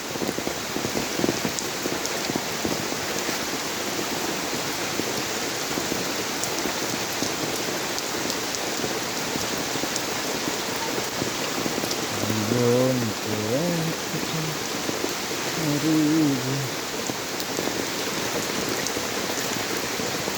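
Heavy monsoon rain pours steadily onto a flooded town street after two days of downpour, a dense constant hiss close by; a faint brief vehicle or horn-like tone passes near the end.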